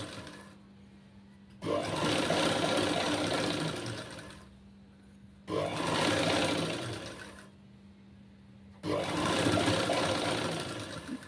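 An electric sewing machine stitches a blouse lining in three loud, steady bursts of rapid whirring, each lasting a couple of seconds. Brief pauses between bursts leave only a low motor hum.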